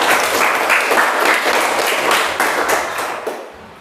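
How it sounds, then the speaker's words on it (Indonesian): Group applause in a classroom, a dense burst of clapping from students and teacher that holds steady for a few seconds and then tapers off near the end. "Tepuk tangan sekali lagi untuk kita."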